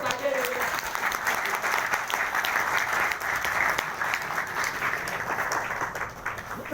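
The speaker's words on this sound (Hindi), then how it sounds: "अरे एक बार सर के लिए तालियां बजाओ।" Sustained audience applause at a live motivational speech event in India, a dense steady wash of many hands clapping throughout, with faint voices mixed in underneath.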